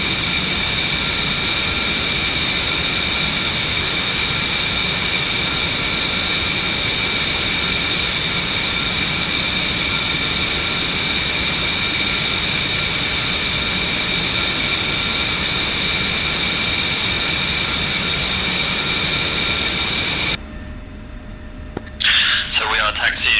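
Loud, steady whine and roar of a jet aircraft taxiing in the DCS 2.7 flight simulator, a constant high-pitched turbine tone that cuts off near the end, followed by brief talk.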